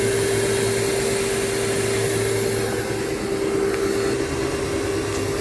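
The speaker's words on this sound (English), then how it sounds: "You might have to turn the vac on and off a couple times, but it's still draining" A shop vacuum runs steadily while draining coolant from a 2006 Silverado HD Duramax engine, a continuous close motor whine with a steady tonal hum and airy rush, no talking.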